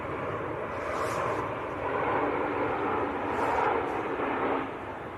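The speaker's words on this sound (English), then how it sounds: "A321 from Frankfurt." A Lufthansa Airbus A321 from Frankfurt landing at Manchester Airport, a steady broad jet roar at moderate distance that swells slightly and then eases, heard alone without talk.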